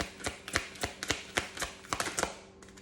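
Tarot cards being shuffled by hand, giving a quick series of about a dozen crisp, close slaps and riffles in an uneven rhythm, with no voices.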